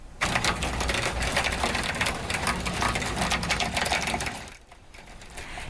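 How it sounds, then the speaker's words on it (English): Pea-sized hail falls across parts of Montreal in the evening, a dense, continuous crackling patter that briefly thins near the end before picking up again. "Hail about the size of peas dropped on parts of Montreal just before 8:30 p.m."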